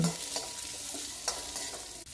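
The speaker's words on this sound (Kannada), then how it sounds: "ಹಸಿಮೆಣಸಿನ್ಕಾಯಿನ ಹಾಕಿ ಈರುಳ್ಳಿನ ಹಾಕ್ಕೊಳ್ಳಿ ಈರುಳ್ಳಿ ಸ್ವಲ್ಪ ಫ್ರೈ ಮಾಡ್ಕೊಂಡ್ಮೇಲೆ" Onions with fennel seeds, poppy seeds and green chillies fry in a pan, giving a steady close sizzle with a few brief stirring scrapes throughout, no voices.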